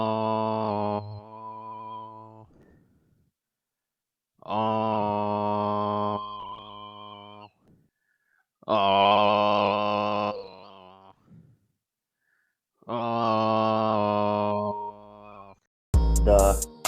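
A voice imitates snoring with an auto-tuned, pitched, buzzy tone, four long drawn-out snores separated by silent pauses, close and clear.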